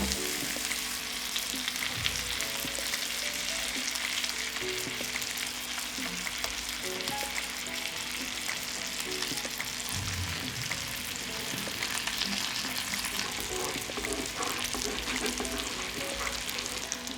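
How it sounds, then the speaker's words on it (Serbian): Pork sizzles and fries steadily in a pan with butter while being stirred, a dense continuous crackle with occasional scraping, close and without any talk. "Meso se propržilo sa svih strana i sada ću dodati 20 g putera."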